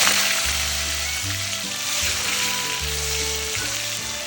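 Potatoes dropped into hot oil already tempered with whole garam masala, cumin and bay leaf, frying with a steady, loud, close sizzle that crackles and hisses without pause and with no talking.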